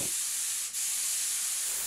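An airless paint sprayer lays paint onto a ceiling with a continuous, even hiss that holds throughout. There is one brief dip partway through, and no voices.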